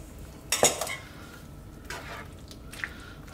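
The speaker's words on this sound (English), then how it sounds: "I'm going to stir that in and make sure we get some of our sauce all over that pasta" A utensil stirs cooked mini fusilli into a creamy chicken and broccoli sauce in a pan. One sharp metallic clink is followed by a few softer scrapes and taps over a quiet background.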